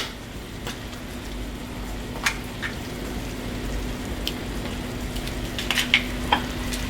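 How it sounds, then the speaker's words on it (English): Two eggs frying in a pan with tomato mixture for Turkish menemen, a steady close sizzle with scattered pops and crackles and a low hum underneath. "Now we are adding the egg for menemen."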